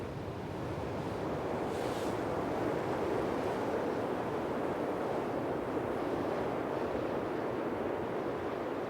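Sea waves surge at the mouth of Cahuil lagoon in spring during high tide, a constant loud roar of surf mixed with wind buffeting, with no voices.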